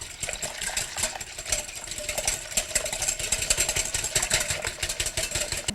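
A whisk beats egg into crepe batter in a bowl, a fast, steady rattling scrape that repeats closely and evenly for several seconds with no one speaking.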